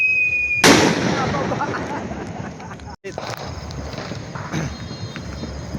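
Loud New Year's Eve fireworks burst with sharp bangs and crackling, followed by a steady crackle of smaller pops, with a sharp break midway and voices faintly under the noise.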